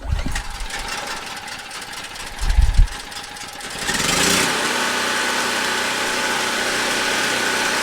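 A DeWalt 4000 watt portable generator is pull-started: a few rough cranking pulls and knocks give way to the engine catching and settling into a steady, close running drone.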